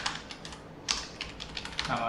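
Rapid clicking keystrokes on a computer keyboard while entering a Linux command, irregular bursts of close, quiet taps in quick succession.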